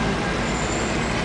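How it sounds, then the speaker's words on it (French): Dense road traffic in Conakry, a steady broadband rumble of buses, trucks and cars with engine drone and a faint high whine, continuous and fairly loud throughout with no clear talk. "Circulation à Conakry."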